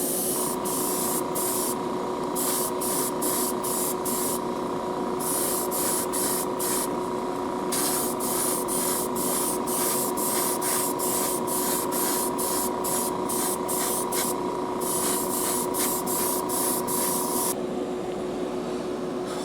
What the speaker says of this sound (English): Airbrush is back, working good.